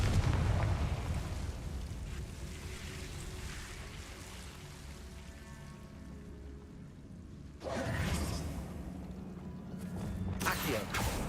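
A Confringo fire spell bursts in Hogwarts Legacy, a rumbling, roaring blast that swells under a dense noisy wash, then a sharper whooshing burst near the end, loud and close.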